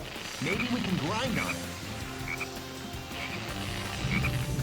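A frog in the video game Sonic Heroes croaks in repeated warbling calls over game music and effects, while people talk over it.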